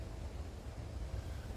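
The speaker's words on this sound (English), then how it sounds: "The weather is a lot better, but it's a bit windy today." Wind gusts through woodland on a blustery day, a steady low rumble buffeting the microphone with no other clear sounds.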